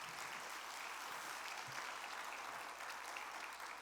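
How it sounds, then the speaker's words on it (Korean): Sustained applause fills a church during a Sunday worship service to welcome missionaries, a dense, even clapping from the congregation that holds steady throughout. "여러분 큰 박수 한번 해주시기 바랍니다"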